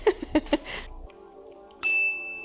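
Bicycle bell on a fat-tire electric bike, a single bright metallic ring near the end that decays slowly, following a few short knocks.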